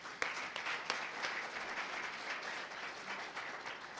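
An audience at a community college veterans summit closing session applauds itself, a full, lively patter of many hands with a few sharp individual claps standing out, steady throughout.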